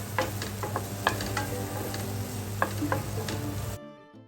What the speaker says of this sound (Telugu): ఇందులో కొంచెం ఎగ్ యాడ్ చేస్తాను అనమాట ఇప్పుడు.